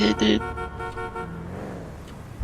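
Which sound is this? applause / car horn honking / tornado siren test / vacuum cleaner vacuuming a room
car horn honking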